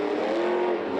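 Iron Man monster truck engine revving hard during a Monster Jam freestyle run in Las Vegas, a loud, steady, droning roar held throughout the short stretch.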